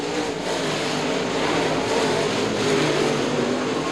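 UMP DIRTCar modified race cars filing past on a dirt speedway after the checkered flag: a continuous, dense engine roar from several cars at once, steady and loud without a distinct single pass.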